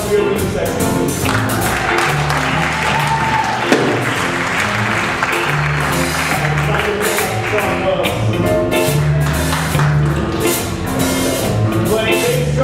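A big band audience applauds the rhythm section, a loud, dense wash of clapping with sustained instrumental tones underneath, and a voice briefly speaking over it.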